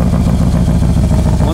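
A Harley-Davidson Screamin' Eagle Ultra Classic CVO touring motorcycle with a 2-into-1 Thunderheader exhaust runs close by, its loud, steady, throbbing engine note filling the short moment without a break.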